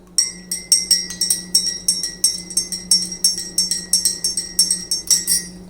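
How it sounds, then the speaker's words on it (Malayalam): A spoon stirs lemon and beetroot juice in a glass, making quick, steady chinks and clinks against the sides, close and bright, with no talking. "ഇളക്കി കൊടുക്കാം."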